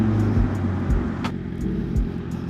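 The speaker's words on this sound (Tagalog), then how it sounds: "Iba talaga ang tunog ng CB" A Honda CB650R middleweight motorcycle with a manual clutch runs nearby with a low steady engine rumble, punctuated by a few brief low thumps and a short sharp click, with no talking.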